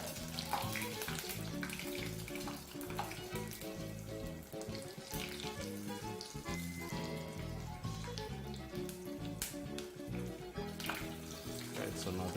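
Chicken Kiev sizzles and crackles continuously in very hot frying oil, a close, steady hiss running throughout with faint music underneath.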